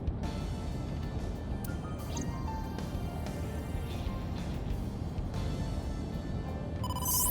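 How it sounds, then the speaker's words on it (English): Incoming-call phone ringtone in the game AI: The Somnium Files, a bright repeating chime that swells near the end over a steady bed of game background noise. "Oh, phone call. Date, incoming call from the..."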